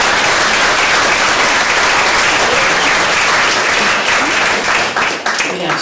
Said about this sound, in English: I'd like to give another round of applause to Millie.